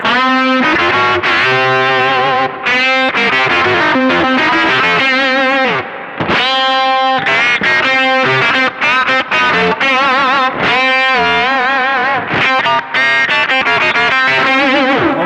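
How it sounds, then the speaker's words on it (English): Distorted electric guitar through a ring modulator, with a metallic, clangorous tone, notes played in quick bursts with brief gaps, loud and upfront. "let's bring that ring mod back in. That's a lot of ring mod."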